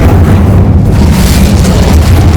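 A loud, sustained magical fire blast from an Incendio spell in Hogwarts Legacy, roaring at full volume throughout with a deep booming rumble and no voices.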